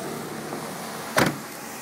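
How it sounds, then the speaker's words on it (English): Power windows on a 1998 Mercedes-Benz SL500 AMG convertible give a brief electric whir with a soft thunk as the glass seats, faint against steady background hiss. "Windows up."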